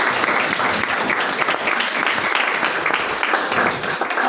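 A church congregation bursts into loud, dense applause, sustained clapping filling the room from start to finish.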